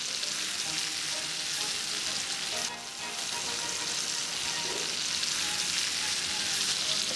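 Turkey breast frying in preheated butter in a pan, a continuous close sizzle and crackle throughout with a brief dip in level midway.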